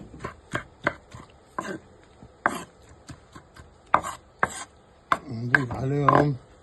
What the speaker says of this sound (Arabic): بعد ما كملنا شوي الطماطم والفلفل والبصل راح نفرمهم